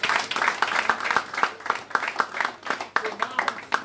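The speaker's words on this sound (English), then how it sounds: "You should clap for yourself." Audience clapping at a London town hall meeting and fundraiser, a moderate burst of scattered hand claps lasting a few seconds with voices mixed in.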